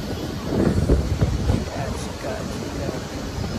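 A MEMU express train with ICF coaches runs out from Chennai Central, heard from inside as a steady low rumble and rush mixed with heavy wind buffeting, with the loudness swelling and easing.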